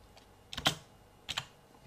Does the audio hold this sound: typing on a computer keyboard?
yes